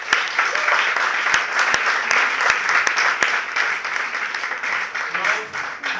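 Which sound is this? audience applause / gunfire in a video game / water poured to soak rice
audience applause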